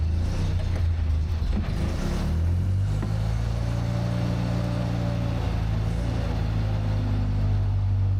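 An old dead crane's diesel engine runs near and loud, a heavy low rumble that rises into a sustained rev and holds steady, with no talk over it.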